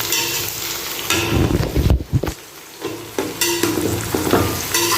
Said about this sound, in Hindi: अब इसी प्याज के साथ भिंडी की भी भुनाई करेंगे।